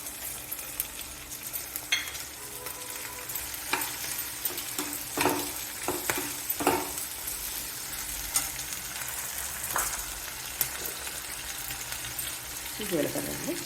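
Coriander seeds, cumin and dried chillies frying in a pan, a soft, continuous sizzle with scattered crackles and stirring scrapes, close and fairly quiet, with brief talk over it.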